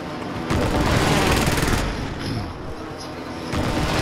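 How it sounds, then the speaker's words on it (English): Airstrike in Call of Duty: Modern Warfare, loud rumbling blasts and rapid gunfire in dense overlapping bursts, swelling and easing across the clip. "Allied precision airstrike incoming."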